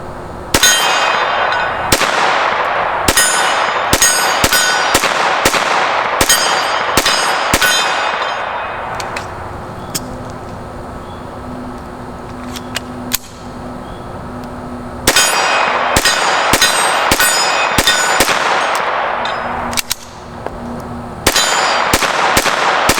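A SIG 226 pistol fitted with a factory SIG .22 conversion upper fires repeated sharp shots, many cracks with metallic clangs, coming in bursts separated by pauses, loud and close with no talking.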